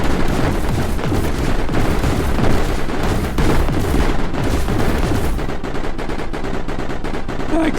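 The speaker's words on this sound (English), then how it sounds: "I have a feeling our Spectres are going to be firing" Spectre turrets in the video game Mindustry pour out dense, continuous rapid gunfire, loud and close, with heavy booming bursts layered throughout and no pause.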